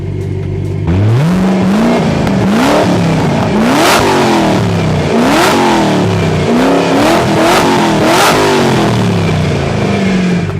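A 2006 Ford GT's engine is revved repeatedly, loud close rising roars climbing in pitch then dropping back, about seven blips in a row with no talking.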